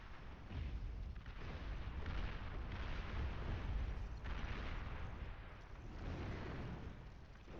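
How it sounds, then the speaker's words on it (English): Napalm artillery firing in Beyond All Reason, a steady, faint wash of distant booms and rumbling bursts that swell and fade in waves with no voices. "What are these? Napalm artillery."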